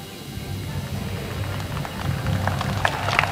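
Steady rain falling during an outdoor official ceremony welcoming the President of Kenya and the US President, a continuous soft hiss with scattered drops tapping on surfaces, growing slightly louder toward the end, with no speech over it.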